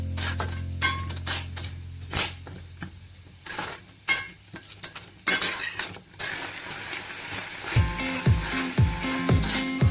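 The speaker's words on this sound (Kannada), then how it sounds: "ನಂತರ ಪೀಸ್ ಹಾಕ್ತಾ ಇದ್ದೀನಿ, ಗ್ರೀನ್ ಪೀಸು. ಇದನ್ನ ಚೆನ್ನಾಗಿ ಫ್ರೈ ಮಾಡಬೇಕು." Green peas fry in a pan for a vegetable curry, with a soft steady sizzle and repeated scraping and clattering of a spoon stirring against the metal, growing busier toward the end.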